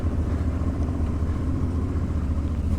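Motorcycle engine on an off-road ride in Northern Greece near Papigo, with a steady, loud low rumble running continuously throughout and no breaks.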